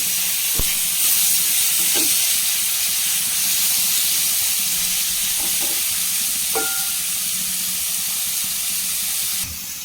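Tomato and green chillies sautéing in a pan, a steady close sizzling hiss with a few faint clinks of a utensil throughout.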